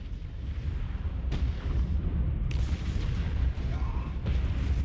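Artillery fire in the strategy game Warhammer 40,000: Dawn of War 2: Chaos Rising, heavy low rumbling booms and bursts rolling continuously, with several sharper impacts breaking through the dense battle noise.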